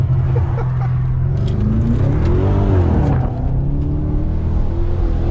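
A loud Stage 2 turbocharged BMW M550 engine revs, its pitch rising and falling in a couple of sweeps over a deep constant rumble, heard close from inside the car.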